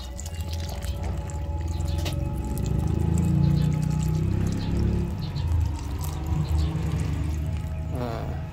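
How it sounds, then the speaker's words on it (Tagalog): Milk is poured into a pot of sopas, Filipino macaroni soup, in a long, soft, splashing stream that swells and fades over several seconds, joined by light clinks and stirring, with a faint voice in the background. "lagyan na po natin gatas natin, ano? Isang malaki. Lalagyan natin para creamy."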